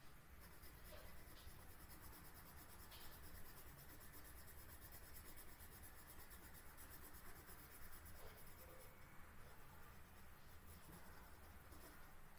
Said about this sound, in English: Let's complete it with the pencil itself.